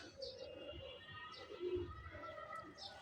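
Soft, low pigeons cooing on a rooftop in gentle repeated phrases, fairly faint, with faint higher chirps and quiet background noise.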